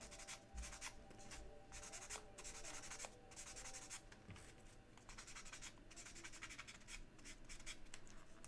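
Steady abrasive rubbing of sandpaper against a plastic mecha model kit part, a continuous close scratchy texture with small rhythmic strokes throughout.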